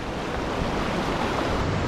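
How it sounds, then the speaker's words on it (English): Fast-moving, deep river water rushes steadily in the backcountry, a loud broadband roar with gusty wind mixed in and no voices. "The water's moving quick."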